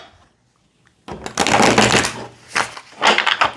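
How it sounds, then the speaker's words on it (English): A deck of tarot cards is shuffled in a few quick, crackling riffle bursts close up, following a brief near-silent pause. "Let me give it a quick shuffle."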